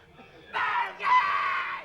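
A game show contestant lets out a loud, sustained scream in two long bursts, the second rising higher, with a crowd audience audible underneath.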